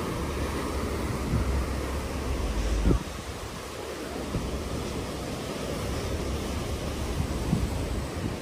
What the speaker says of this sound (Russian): Это море бушует.